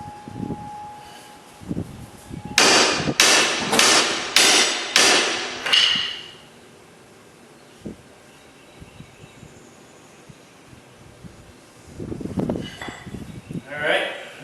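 A big hammer strikes five heavy, evenly spaced blows close by, each with a ringing metallic tail. Scattered knocks and rustling follow, and people talk near the end.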